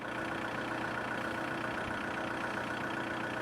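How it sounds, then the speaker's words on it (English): A Volkswagen diesel engine runs steadily on a rural California highway drive, a continuous mid-to-low rumble with no break or change over the moment, with no voices present. "I love the sound of that diesel motor"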